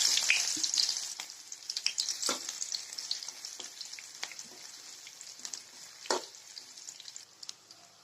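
Mustard seeds and chopped onions frying in a pan for semolina upma give a soft, steady sizzle with scattered small pops and crackles, close but fairly quiet, with no talk.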